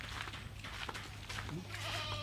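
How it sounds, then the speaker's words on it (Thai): Goats bleat on a goat farm in Thailand, several animals calling in short wavering cries at moderate distance, mixed with people talking nearby. "แพะเราน่ะ"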